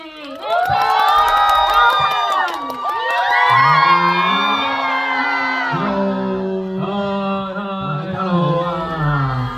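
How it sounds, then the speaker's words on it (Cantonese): A studio audience at a thank-you event screams and cheers in a loud wave of high shrieks and whoops, fading toward scattered shouts, with a voice or two mixed in. "俾最熱烈嘅掌聲歡迎3位入嚟"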